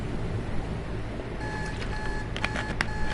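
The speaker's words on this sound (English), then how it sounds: "Glad to see even in the future it's the same alarm sound that we've had for the last, like, 50 years." A digital alarm clock in the video game Alone With You, a series of thin, clipped electronic beeps starting midway and repeating several times over a steady low ambient hum.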